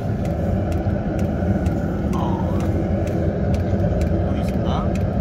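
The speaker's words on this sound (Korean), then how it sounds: "D5는 여기 있어요. D5는 여기 소리 들리죠?" A D5 diesel water heater runs in a camper van in freezing winter weather, a loud, continuous rumbling roar with steady blower noise and faint rhythmic ticking on top.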